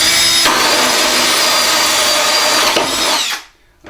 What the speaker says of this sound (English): I've already got a 44mm drill bit in my drill